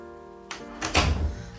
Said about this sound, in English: So let me just close this door.